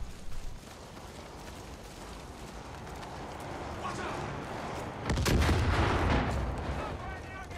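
Gunfire in the video game Far Cry 5 crackles amid a busy mix of game sound, growing denser and louder in the latter half with a burst of shots, while a voice speaks at times.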